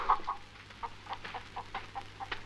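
A hen in the 1987 film El Bosque Animado clucks in a rapid series of short, close clucks with brief pauses between them, alone and moderately loud.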